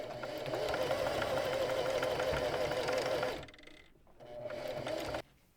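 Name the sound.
sewing machine stitching pillow cover seam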